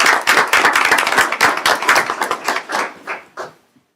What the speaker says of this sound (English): If we can give those students a round of applause at this time.